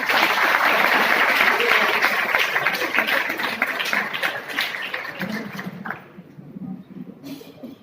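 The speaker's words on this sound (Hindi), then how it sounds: "मैंने पहले भी कहा था ताली ऐसी देखनी चाहिए" An audience at a naturopathy seminar applauds loudly, with dense, sustained clapping that tapers off near the end as a voice begins to speak.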